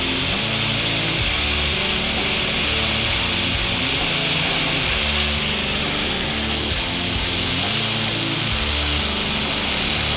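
A loud, steady power tool cutting through the drive chain of a BMW S1000RR track bike during a sprocket change, a continuous grinding whine held for about ten seconds with no talking.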